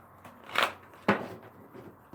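Tarot cards being shuffled by hand make a couple of quick, soft riffling bursts with a sharper snap in the middle, close and fairly quiet, with brief pauses between.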